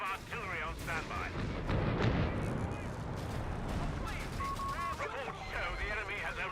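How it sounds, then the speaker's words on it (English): Artillery fire during a Company of Heroes battle, heavy booms and crackling gunfire mixed into a dense battle din, with people talking throughout. "Commander, we have artillery on standby."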